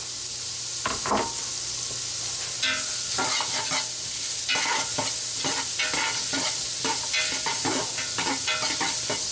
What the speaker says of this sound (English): I'm going to go ahead and add the onions just to get some color on them.